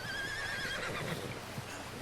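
A horse in the video game Red Dead Redemption 2 gives a loud, drawn-out whinny near the start, followed by soft hoof movement and game ambience.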